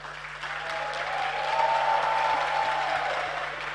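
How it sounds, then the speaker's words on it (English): Students at a youth dialogue session in Ghana clap together as a group, the applause swelling from a soft start to a full, sustained burst that eases slightly toward the end. "Show them how to clap."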